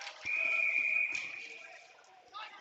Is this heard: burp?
no